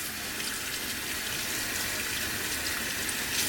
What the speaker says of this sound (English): Rinse again with lukewarm water.